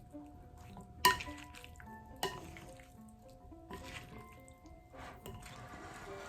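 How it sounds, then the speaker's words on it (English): Gluten-containing pasta tipped into a bowl of pasta salad with garlic and herb dressing and stirred, with two sharp clacks of spoon on bowl followed by softer wet scraping and mixing, while music plays faintly underneath. "Let's add our pasta with the gluten in it."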